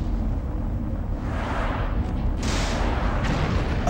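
Cannons fire in the Iron Man PS2 video game: a dense, rumbling roar of booming blasts with continuous low-end noise and a sharper burst partway through, loud and unbroken.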